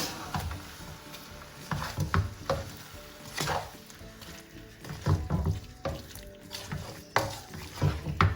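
Tomato puree being stirred into a pan of tandoori chicken curry, with repeated scraping strokes of a spoon through thick sauce and a faint sizzle underneath, close and moderately loud.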